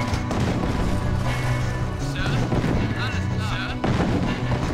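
Weapons fire pounding an anti-air emplacement in the real-time strategy game Command & Conquer: Tiberian Sun, a dense, continuous barrage of booms and gunfire layered with game music and effects.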